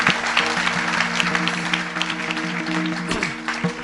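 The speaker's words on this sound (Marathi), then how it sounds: "या सगळ्या गुणीजनासाठी एकदा जोरदार टाळ्या होत्या" Audience at a Marathi kirtan by Prakash Maharaj Sathe giving loud, sustained applause for the gathered dignitaries, a dense steady wash of clapping filling the whole stretch with faint tonal harmonium-like hum beneath.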